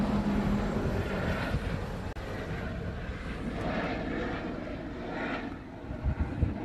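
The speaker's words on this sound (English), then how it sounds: "that's a C-130" A C-130 propeller aircraft flying past, heard as a broad, rumbling engine drone at moderate distance that swells and fades gently, with faint outdoor background noise around it.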